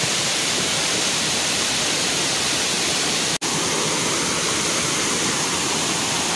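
Curug Sawer waterfall and its river stream in Malasari, Bogor, produce a dense, loud, unbroken roar of falling water, steady throughout apart from a momentary cut, with no talking.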